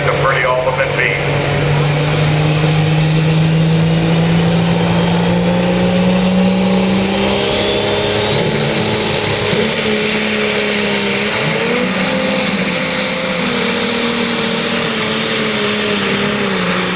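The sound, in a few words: pulling tractor engine revving at a tractor pull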